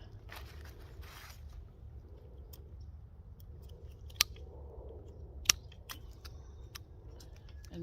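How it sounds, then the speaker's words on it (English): A zip tie ratchets tight around a Perfume Breeze climbing rose cane outdoors, giving a few faint close clicks and two sharp snaps against a quiet background. "zip tie this one over here."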